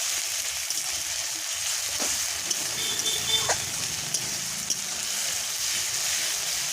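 Cumin paste sizzles in oil with fried ginger and garlic, a soft steady hiss with a couple of faint utensil taps, fairly quiet and without talk.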